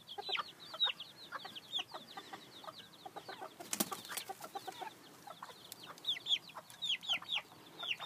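Small Surama chickens, a young rooster and hen, give soft repeated clucks and chirps close by, with a short flutter of wings midway and quiet background between calls.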